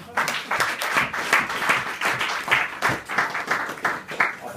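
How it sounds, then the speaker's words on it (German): Guests at a Samichlaus (St. Nicholas) club gathering in Weinfelden clap for a member, a lively round of applause from a modest group with uneven, pulsing bursts of individual claps. "Das ist ein Applaus wert"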